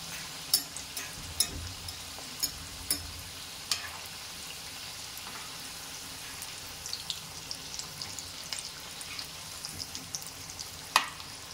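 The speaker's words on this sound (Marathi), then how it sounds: "आता समोसे तळून घेऊ. कमी गॅसवरच तळायचे आहे." Samosas deep-fry in hot oil over a low flame, giving a continuous fine sizzle with frequent soft pops and crackles scattered throughout.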